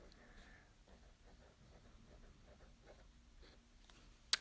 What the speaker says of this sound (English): I'm just going to write the name of the notebook,